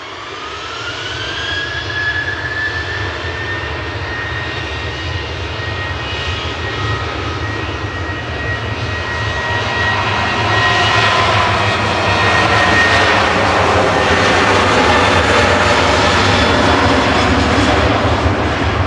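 An 11-year-old TUI Boeing 737-800 roars past at Manchester Airport, its jet engine noise building steadily from a whine into a louder, broad rumble as it nears.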